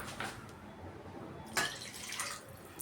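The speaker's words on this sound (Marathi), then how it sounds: "तर मी अजून पाणी टाकत आहे" Water is poured into a pot of drumstick dal curry in a home kitchen, a faint, brief splash with a few soft drips and trickles, heard alone.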